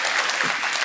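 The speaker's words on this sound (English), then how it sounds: "big round of applause" Audience applause after a talk at a soft power conference, a dense, steady wash of clapping filling the room without pause.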